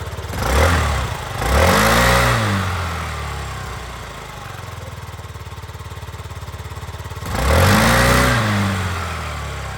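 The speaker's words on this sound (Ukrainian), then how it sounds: "Ідеально працює двигун, питань немає." A Yamaha Gear four-stroke fuel-injected scooter engine is revved up in several quick throttle blips that rise and fall, then drops back to a steady idle before another burst, loud and close with no talking.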